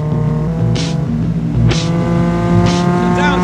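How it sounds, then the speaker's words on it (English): A race car engine drones loudly and steadily at close range as the car is driven through a corner, with bursts of tire noise on top and someone talking over it. "Down to third gear, turn in, and now power, go on, power."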